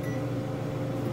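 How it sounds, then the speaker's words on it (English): A microwave oven hums steadily while warming a bowl of food, a brief continuous low drone close by with no other sounds. "I'm gonna put it in the microwave for 3 minutes"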